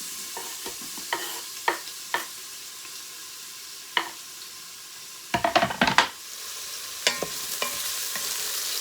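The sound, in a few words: onion and vegetables sautéing in olive oil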